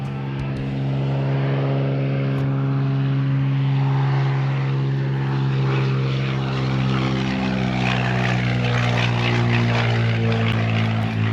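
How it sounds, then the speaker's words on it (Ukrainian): A small private propeller plane drones loudly overhead near a beach in Fiji's Yasawa Islands, its steady engine hum holding strong throughout as it passes close and low. "Низенько пішов, так? приватний літак."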